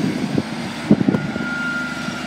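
A VTEC train led by driving van trailer 82214 pulls out of Doncaster station bound for York, giving a low, uneven rumble with a thin, steady whine rising above it, heard from the platform.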